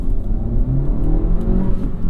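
A 2025 Honda Civic Si engine rumbles and revs steadily up close, with a low, continuous drone and no talking.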